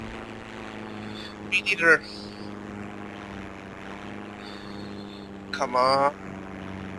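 A propeller aircraft engine idles on the runway in the World War II shooter Heroes and Generals. It makes a steady, close droning hum throughout, and two short bursts of speech break in over it.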